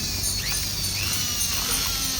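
A Preethi Lavender mixer motor with worn carbon brushes and sparking runs with a steady, harsh whirring drone. It sounds rough and buzzy, holds a constant level throughout, and plays alone with no talking.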